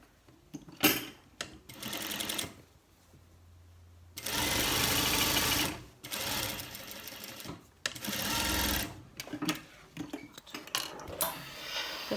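A sewing machine stitches darts on cargo pants near the side pockets, running in several bursts of rapid mechanical whirring separated by pauses, close and fairly loud, with clicks and handling knocks between runs.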